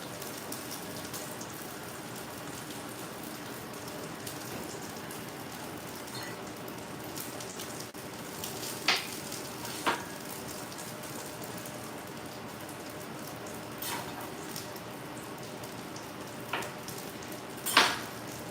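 Eggs fry in a pan beside leftover salmon, a soft, steady sizzle and crackle with a few sharper pops now and then, fairly faint and continuous.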